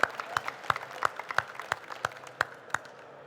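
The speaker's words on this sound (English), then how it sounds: "Give him a round of applause, everyone." Scattered applause for a volunteer at a magic show at DEF CON 30: a handful of distinct, sparse claps spaced out across a few seconds, fairly quiet in a large room, with no voices.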